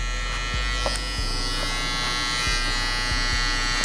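Electric hair trimmer buzzing steadily and close up during a slick-back haircut with a low-mid taper, a loud continuous hum with slight changes in pitch as it cuts hair.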